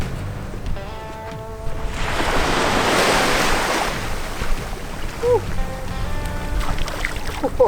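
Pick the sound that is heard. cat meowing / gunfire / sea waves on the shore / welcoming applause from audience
sea waves on the shore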